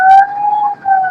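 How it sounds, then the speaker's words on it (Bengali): Loud ship whistle siren sounding on a busy waterway, a single sustained piercing blast held steady for about a second with a short dip, no talking. "এই হুইসেল গুলো এত আওয়াজ হয় বা এত জোরে হয়, সাইরেন গুলি"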